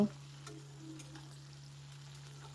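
A steady, low sizzle of spices frying in a pan, with faint occasional ticks and clinks over it and nobody talking.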